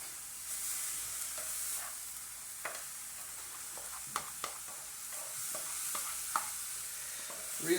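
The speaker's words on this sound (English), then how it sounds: "I was sweating the onions and that, and the vegetables, while the meat cooked up" Onions and vegetables sweat in a pan on the stove alongside cooking meat, giving a soft steady sizzle broken by scattered clinks and scrapes of stirring, close and fairly quiet, with no talking.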